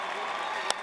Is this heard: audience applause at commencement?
yes